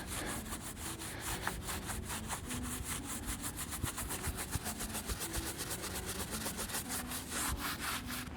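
A stiff broom scrubs a Swisstrax modular garage floor in steady, rapid back-and-forth strokes, a continuous close rasping with no talking.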